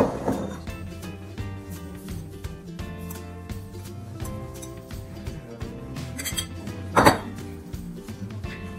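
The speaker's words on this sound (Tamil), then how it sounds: "இப்போ ட்ரை இன்க்ரீடியன்ட்ஸ் ஆட் பண்ணதுக்கு அப்புறமாவும் அதே சேம் டைரெக்ஷனில் தான் நம்ம மிக்ஸ் பண்ணணும்" Dry ingredients are stirred into wet carrot cake batter in a bowl, with a spoon scraping and clinking steadily against the bowl up close, ending in one sharper clink.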